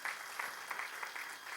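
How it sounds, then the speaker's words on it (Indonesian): Church worshippers applaud for Jesus Christ in a brief burst of group clapping, with slightly pulsing claps at an even level and no voices on top. "Kasih dulu tepuk tangan buat Tuhan Yesus Kristus"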